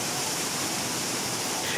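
Floodwater from a swollen river in Sidrap, South Sulawesi, rushes past in a steady, loud, unbroken roar that fills the whole moment.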